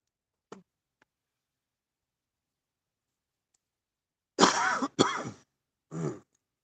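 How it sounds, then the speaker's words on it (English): A short faint cough, then after a pause a burst of harsh coughing in close succession, ending with one more cough. "I hate coughing right now"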